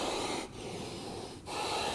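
A voice imitating the resonant breathing heard in a yoga class, two long breathy rushes of air with a short pause between, close and airy.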